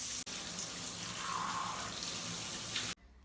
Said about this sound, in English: So I'll just put a tiny bit of water here.